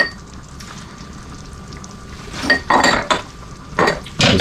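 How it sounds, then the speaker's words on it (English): A spoon stirs a pot of beans, with a few loud metallic scrapes and clanks against the pot near the end after a quiet stretch. "Just give that one more last stir."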